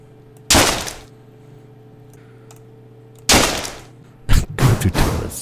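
Video game gunfire erupts in separate bursts: one loud blast, a pause, a second blast, then a quick cluster of shots near the end, each sharp and close against a quiet hum.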